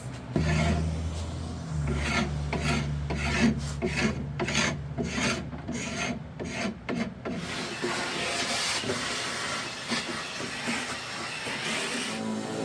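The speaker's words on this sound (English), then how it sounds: "so I'm gonna scrape a little bit of this" Rasping scrape of a hand tool stripping old finish from a 1952 wooden dresser, steady rhythmic strokes close up and loud, running continuously with no voices.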